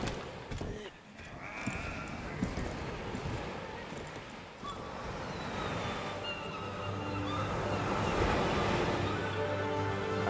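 Ocean waves wash around a boat sailing in the video game Lost Ark, a moderate, continuous surf that swells gradually, mixed with other in-game sound effects.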